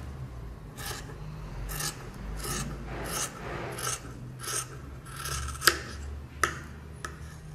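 Scissors cut through fabric for a bra-style crop top, about ten evenly spaced crisp snips close by, with a couple of sharper clicks near the end.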